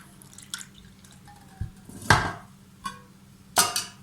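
Water spooned over cooked chickpeas in a dish: several separate wet splashes and drips, fairly close and clear against a quiet kitchen background.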